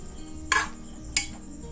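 A pressure cooker lid is opened on a pot of boiled jackfruit seeds, giving two sharp metallic clanks about half a second apart over a low, steady background hiss, with no talking.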